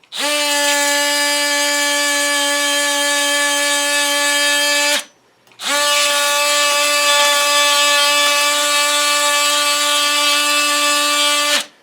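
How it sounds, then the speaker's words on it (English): A Dewalt DCS356B cordless oscillating multi-tool scraping paint gives a steady, loud, high-pitched buzzing whine, running in two long passes split by a brief stop. "let's try and scrape something, maybe a little bit of paint off of this"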